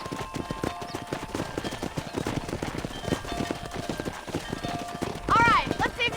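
Hooves clip-clop rapidly and rhythmically as horses gallop on a ranch in Red Dead Redemption, close and continuous, with a horse whinnying loudly near the end and voices talking over the hoofbeats.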